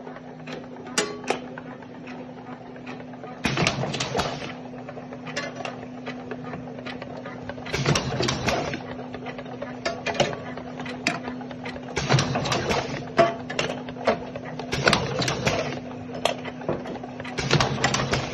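WINSKYS labeling machine applying labels to conic bottles, a steady low mechanical hum with repeated bursts of clattering and whirring every few seconds as each bottle passes through, close and moderately loud.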